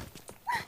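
A horse arrives in a video game, with quick hoof clip-clops followed by a short whinny, brief and fairly close.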